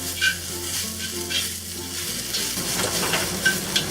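Tagu choy stems stir-fry with garlic in a hot pan, producing a loud, steady sizzle and a few stirring scrapes close up, with no voices.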